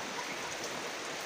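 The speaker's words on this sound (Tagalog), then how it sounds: "Medyo paupahin muna natin yung ulan." Steady rain falling outdoors near a large old tree makes an even, fairly soft hiss of pattering drops that continues unbroken throughout.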